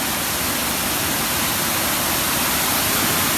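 Heavy, nonstop rain pours while floodwater rushes across a road near Begnas Lake in Lekhnath, Pokhara. A loud, steady, broadband roar runs without a break the whole time.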